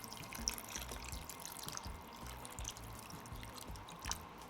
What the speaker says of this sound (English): I'm gonna add about a half a can to a whole can of water.